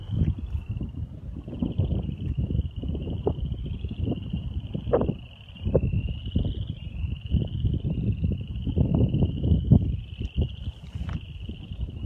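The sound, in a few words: wind on a hill at Arabia Mountain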